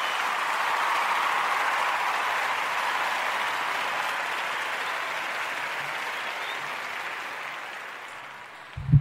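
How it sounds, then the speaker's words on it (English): A round of applause rolls on steadily, a soft broadband wash of many hands clapping at a distance, fading slightly before a brief louder knock at the end. "Like, just got to give the man a round of applause."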